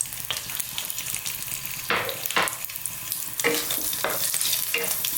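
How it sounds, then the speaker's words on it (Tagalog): Pork sausage fries in oil in a wok, giving a close, continuous sizzle broken by several sharp bursts of stirring and scraping. "ilalagay lang po natin muna yung ating pork sausage"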